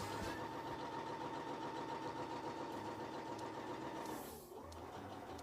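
A sewing machine stitching with a twin needle, a steady close mechanical hum and rapid rhythmic clatter that runs continuously, briefly easing near the end before carrying on.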